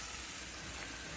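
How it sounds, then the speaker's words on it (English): Onions frying in a pot with leftover salmon juices, a soft steady sizzle, faint and brief. "now in the same pot, I'm going to put some onions"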